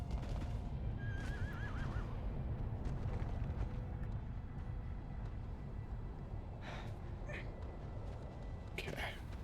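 A horse whinnies in Shadow of the Colossus on PlayStation 2, a short quavering neigh near the start over constant rushing ambience, followed by scattered faint sounds.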